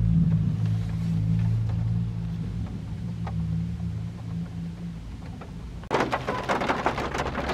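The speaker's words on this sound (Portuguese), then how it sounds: "tá chovendo muito aqui" Heavy rain pours down outdoors in a steady, dense hiss with a low rumble beneath, then a sudden louder burst of crackling downpour near the end.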